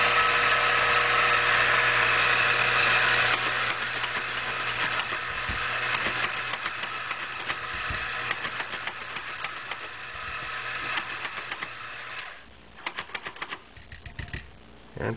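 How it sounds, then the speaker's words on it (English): Rancilio-style step coffee grinder grinding espresso beans, a loud continuous whirring buzz that runs steadily for about twelve seconds, then cuts out, leaving a few light tapping and clicking sounds near the end. "I can't really talk while I'm grinding"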